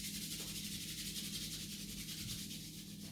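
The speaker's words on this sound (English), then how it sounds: "Bringing those hands together, rubbing them to warmth." Hands rubbed briskly together for warmth at the close of a yoga class, a steady, soft, close-up friction hiss lasting a few seconds, with no talk over it.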